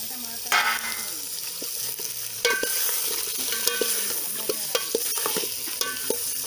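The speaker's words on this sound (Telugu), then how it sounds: "చికెన్ ఆయిల్లో బాగా ఫ్రై కావాలి." Chicken pieces coated in ginger-garlic paste and turmeric frying in oil with onions and green chillies for a village-style curry, a steady sizzle broken by repeated scraping clinks of a ladle stirring the pan.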